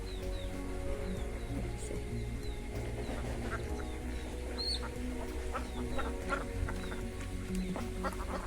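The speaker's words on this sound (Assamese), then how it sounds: "হাঁহ চৰি আছে।" Ducks grazing outdoors on a farm give repeated nasal quacks, some near and some farther off, over a low background murmur of birds, with no speech.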